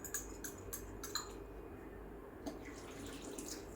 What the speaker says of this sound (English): I'm going to empty my hot water